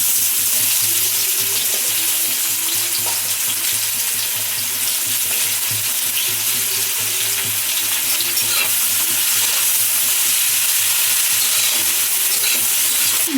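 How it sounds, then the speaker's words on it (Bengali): Onions frying in hot oil for a chicken curry, a continuous loud sizzle with occasional stirring scrapes and faint watery crackle, steady throughout with no voices. "তেলটা গরম হয়ে গেছে, এবার ভেজে নেব পেঁয়াজের বেরেস্তাটা।"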